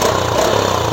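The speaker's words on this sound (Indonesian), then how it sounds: "Kalau digas begini enak banget suaranya" A Yamaha Jupiter Z1 underbone motorcycle's exhaust drones loudly and close by with a steady throttled engine note and a slight swell in pitch, and no voices are heard.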